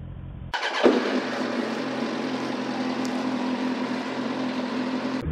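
Motorcycle engine started with the exhaust muffler removed, a sudden loud catch followed by a raw, steady, unmuffled idle roar that stays close and constant until it cuts off abruptly.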